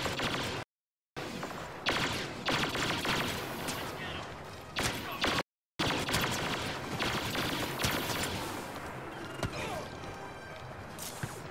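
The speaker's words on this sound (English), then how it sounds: "Get on that Gatling gun." Rapid gunfire from a Gatling gun in the Star Wars Battlefront video game, dense and loud bursts running nearly throughout with brief cutouts, mixed with other battle noise and voices talking over it.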